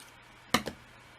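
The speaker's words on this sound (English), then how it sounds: "cut the yarn" Scissors snip through crochet yarn after a slip stitch finishes a granny square, two quick close crisp cuts in otherwise quiet surroundings.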